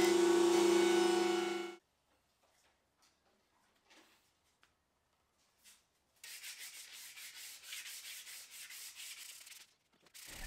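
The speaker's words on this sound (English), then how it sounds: "And then I spent a very long time sanding." Loud grinding hum at the start, then quiet, followed by steady raspy rubbing of sandpaper on a wooden entry hall table for several seconds.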